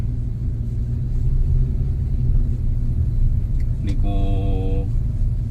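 A Kia Sonet LX automatic climbs steadily uphill from a bridge in drive mode at low RPM, its engine giving a continuous low rumble with road noise close by throughout, and a voice briefly speaks over it.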